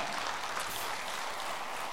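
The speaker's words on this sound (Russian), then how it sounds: "Алина Бухалова немедленно требует ваших аплодисментов" Concert audience at a charity event applauds, a dense, even wash of many hands clapping from the hall, distant and fairly soft, continuous without voices on top.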